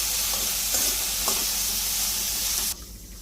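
Chicken fried rice ingredients with a splash of soy sauce are stirred in a hot pan. A loud, continuous sizzle runs under a few spatula scrapes, then cuts off abruptly near the end.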